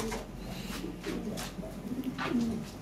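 Lahori pigeons cooing close by, soft throaty coos repeating in short phrases over a faint background murmur.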